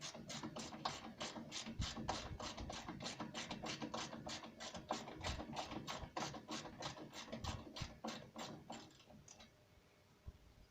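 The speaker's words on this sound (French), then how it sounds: "Pour enlever les boulons, on va utiliser une clé de 11." An 11 mm ratchet wrench clicks in a fast, steady rhythm while removing grille bolts on a Rolls-Royce Silver Spirit/Spur, close and fairly quiet, then slows and stops near the end.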